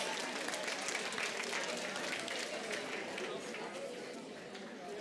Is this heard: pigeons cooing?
no